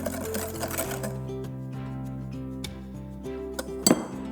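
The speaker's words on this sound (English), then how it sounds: "Add 120 grams of brown sugar to the egg and whisk them together until well" Rapid rhythmic clinking of a whisk against a bowl while egg and brown sugar are beaten together, close and continuous over faint background music, with a sharper knock near the end.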